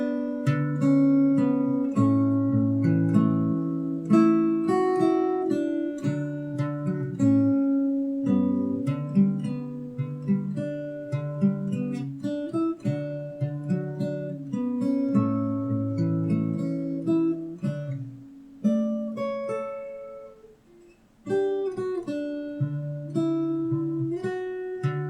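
Fingerpicked acoustic guitar plays the chorus of a song, plucked melody notes over bass lines, steady and clear, briefly pausing near the end before resuming.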